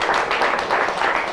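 A church congregation applauding the Lord after a sermon, a dense, steady wash of many hands clapping at close range, filling the short stretch with continuous even clatter.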